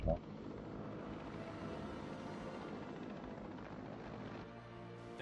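A helicopter in the Batman Arkham City video game gives off a steady, loud rotor and engine roar that holds for several seconds after a brief thump at the start.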